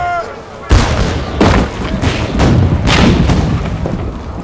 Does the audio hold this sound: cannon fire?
yes